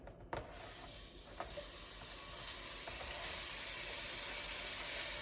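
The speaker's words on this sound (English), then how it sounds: "grab my steak over here. I'm just gonna go ahead and pop it in the pan." Beef steak strips sizzle in an enameled cast iron pan, a sharp hiss after they drop in that settles into a steady, fairly loud frying crackle throughout, with no voices.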